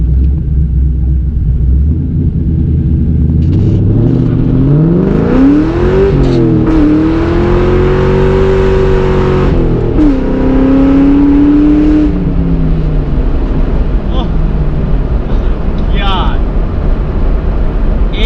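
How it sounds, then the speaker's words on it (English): A race car with a new race rear end does a burnout through second gear with the clutch slipped. The engine revs climb and sweep in loud, rising surges, then ease off, with voices around it. "Was a straight burnout all the way through second"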